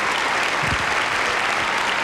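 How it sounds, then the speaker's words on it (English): Audience applause at a 1988 Sea World Ohio show, dense continuous clapping from a crowd, loud and close, filling the whole brief moment without breaks. "go ahead, applaud for them"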